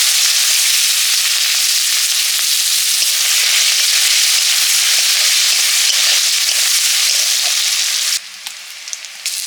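Whole cumin seeds and chopped onion frying in hot oil for a fish curry, a loud, steady, dense sizzle that carries on unbroken before dropping a little quieter near the end.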